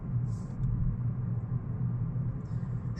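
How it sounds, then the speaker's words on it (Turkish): Steady low rumble of tires rolling on pavement inside a moving 2019 Toyota Corolla Hybrid sedan, constant and fairly quiet, with faint brief hisses near the start and end. "Şu an videoda duyduğunuz ses arkadaşlar tamamen lastiklerin sesi."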